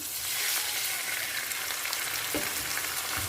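Water added to golden-browned onions frying in a pan: a loud, dense hissing sizzle filling the whole stretch, steady and close, with a brief knock of a utensil, no voices.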